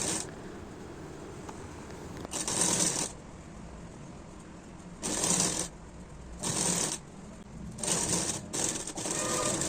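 A sewing machine stitches the cross piece onto a churidar neckline in short whirring bursts, about five runs of rapid needle chatter separated by quiet pauses, close and clear with no talking.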